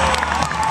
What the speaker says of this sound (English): please give a big round of applause and a massive cheer for Skeletron